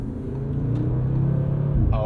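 Inside a 2022 Audi RS 3, the engine hums steadily under acceleration, then a sharp exhaust crackle pops as the car shifts into third gear near the end, close and fairly quiet.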